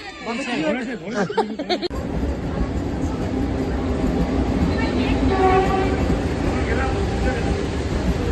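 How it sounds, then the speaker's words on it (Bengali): Vande Bharat trains rush past, a loud steady roar of rail cars with a horn, after a few seconds of nearby chatter from people waiting. "বন্দে ভারত। এই ট্রেনের পর ট্রেন যাচ্ছে"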